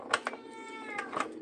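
A house cat meows close by, giving several short, loud, insistent cries in quick succession, with no talking.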